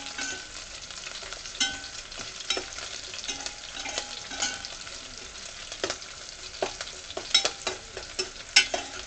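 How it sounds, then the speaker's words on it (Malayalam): Green chillies and garlic sauté in an oil-filled pan for a Kerala-style red gooseberry (amla) pickle, giving a steady soft sizzle broken by scattered spatula stirs and scrapes, heard close with no talking. "പച്ചമുളക് ഒന്ന് വഴണ്ട് വരുന്നുണ്ട്."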